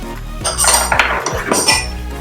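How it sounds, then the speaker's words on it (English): A spatula scrapes around mixing bowls while making no-bake bites, with a few close clinks and knocks against the bowl sides over about two seconds and no talking. "And we also have a spatula. We'll scrape down the bowls."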